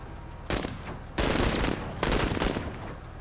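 Bursts of automatic gunfire in the tactical video game Menace: three loud, dense volleys of rapid shots follow each other closely, with brief gaps between them.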